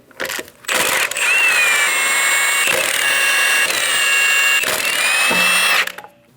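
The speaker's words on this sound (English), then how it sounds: "Using a 22mm socket, remove all 5 lug nuts." An impact gun spins the 22mm lug nuts off the front wheel of a 2011-2027 Dodge Durango 5.7L V8, loud whirring bursts in several runs with brief ratcheting gaps between them.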